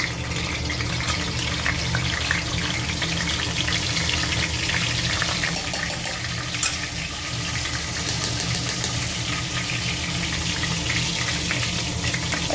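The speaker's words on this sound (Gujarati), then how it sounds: "આ તેલ ગરમ થઈ જવા આવ્યું છે, એટલે આપણે એની અંદર આપણે મીઠા લીમડાના પાન નાખી દઈશું." Curry leaves and asafoetida dropped into hot oil, a steady crackling sizzle with scattered sharp pops, continuous and fairly close, with no talking.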